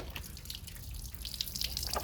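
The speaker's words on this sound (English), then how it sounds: "just wring all the water off it" Water dripping from a freshly washed, wrung-out deer skin during home tanning, a scatter of faint, close drips and small splashes over quiet background noise.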